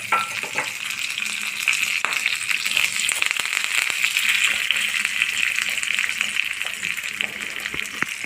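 Green chillies and curry leaves frying in a hot pan for a barnyard millet dish, a steady close crackling sizzle with scattered sharp pops and stirring clinks, no talking.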